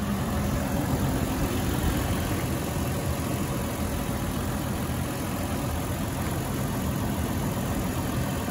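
A 2020 Toyota 4Runner TRD engine idles smoothly and steadily, a continuous low rumble with even tone throughout and no talking.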